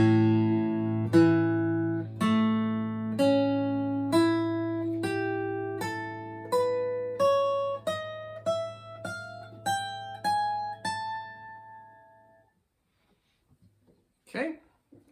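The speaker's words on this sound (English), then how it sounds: "I'll play a low A, which is the fundamental, and then the 15 overtones" A low A fundamental holds while its 15 overtones are played one by one above it, climbing steadily in pitch over about twelve seconds, then silence.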